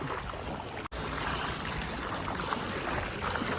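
Floodwater from heavy rain rushes through town streets in a steady, broad roar of churning water, continuous and fairly close, with one abrupt brief dropout partway through.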